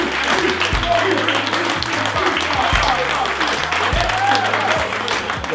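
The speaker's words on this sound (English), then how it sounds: "let's give Manhood Academy a round of applause" An audience applauds steadily and continuously, a dense wash of clapping from many hands with some voices mixed in, sustained at an even level throughout.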